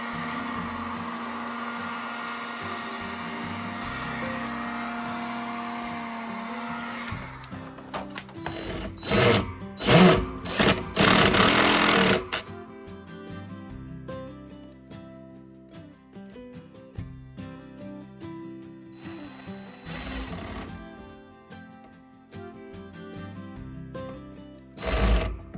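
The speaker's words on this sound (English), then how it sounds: "I could hear the tank filling up." An artesian well deep pump fills a water tank during an old church renovation, giving a steady mechanical whir and hum with a loud stretch of rattling, clattering bursts partway through before settling back to a lower drone.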